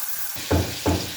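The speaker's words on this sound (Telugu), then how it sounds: "ఇప్పుడు అన్నీ వేస్తాను, వేయించుకుంటాను" Vegetables dropped into hot oil sizzle sharply, three loud bursts of frying hiss one after another, close up.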